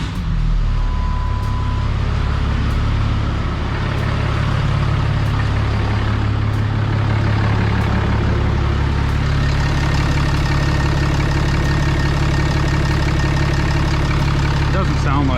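A 2007 Dodge pickup's 6.7 Cummins diesel with a 68RFE transmission idles steadily after its first start following repairs, a close, continuous low drone with faint ticking on top.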